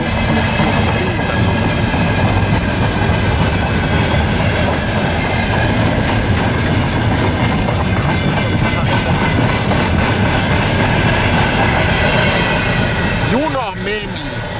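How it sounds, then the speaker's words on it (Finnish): A train of Soviet-built rail cars rolls past close by, loud and steady, with rhythmic clickety-clack from the wheels throughout and a squeal of wheels as it ends. "Juna meni."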